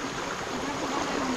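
Stream water flows around a person's legs while they wade near an old village, making a continuous close rushing and gurgling wash that stays steady throughout, with no pauses.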